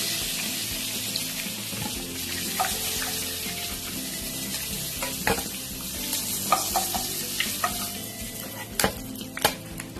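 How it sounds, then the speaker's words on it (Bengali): Golda prawns lightly frying in a pan, a dense steady sizzle with scattered spatula clicks and scrapes growing more frequent toward the end, close and without talk. "এই একইভাবে আমি সব মাছগুলো ভেজে নেব।"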